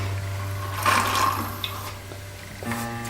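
Water drunk from a thermos bottle: close sloshing and liquid gulping with small drips and a click, over a steady low background hum.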